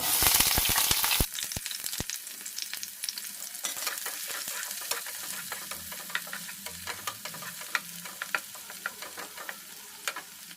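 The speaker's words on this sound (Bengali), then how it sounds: "একবারে পেঁয়াজ রসুন সব দিয়ে দিচ্ছি" Onion and garlic added together to hot oil in a pan for a rajma dish, sizzling and frying steadily up close with repeated sharp stirring clinks and scrapes throughout, and no talking.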